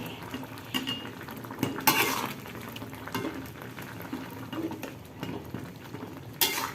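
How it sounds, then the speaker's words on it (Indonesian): Noodles go into a pan of seblak broth and get stirred, with light clinks of a utensil against the pan, soft liquid bubbling and a few sharper scraping bursts, close and moderately quiet, no talking. "sekarang terakhir kita masukkan mie sebelum kita memasukkan kol dan daun bawang"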